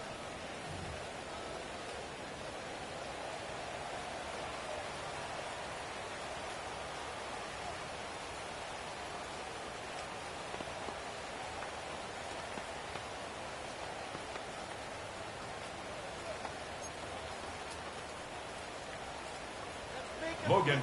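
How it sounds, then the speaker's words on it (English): Steady rain falls during a Madden NFL football video game, a constant soft hiss of rainfall across the field that holds at an even level throughout, with no talk over it. "The rain set to continue as we are underway in the second half."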